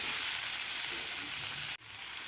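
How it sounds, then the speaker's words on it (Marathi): Green peas fry uncovered in a pan with a steady, even sizzle up close, cut off by an abrupt brief drop before the hiss resumes more quietly. "झाकण न ठेवताच आपल्याला मटार फ्राय करायचे आहेत"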